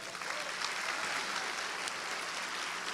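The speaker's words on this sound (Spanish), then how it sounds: "Un aplauso a Cristo." A church congregation applauds, a steady, even wash of clapping that holds at moderate volume throughout with no talk over it.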